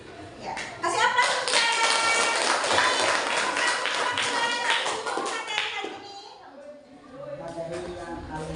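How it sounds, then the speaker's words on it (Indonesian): Classroom audience clapping together, a dense burst of applause lasting several seconds before fading into scattered taps and quiet voices. "Ya, kasih aplaus."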